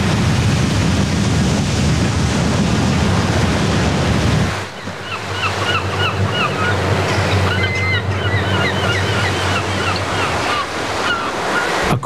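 Tsunami waves crashing, a documentary sound effect with a loud roaring surge of water and wind that breaks off partway through into a rushing, hissing wash with scattered higher chirps.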